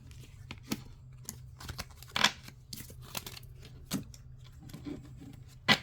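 Tarot cards shuffled by hand at a reading, soft papery riffles and brisk slaps in irregular bursts, close and quiet over a low steady hum.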